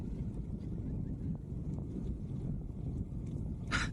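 Strong wind buffeting a microphone during an overcast afternoon bicycle ride, a steady loud low rumble throughout with a brief brighter gust near the end.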